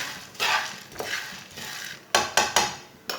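Chickpeas roasting in a pan over low heat while a utensil stirs them, giving a sequence of light scraping strokes and sharper clinks that repeat irregularly, close and fairly quiet, with no talking.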